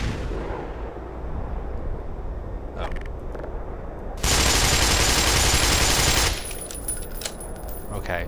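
A grenade explodes in the video game Black Mesa, a loud roughly two-second broadband blast that bursts out of steady gunfire and combat noise.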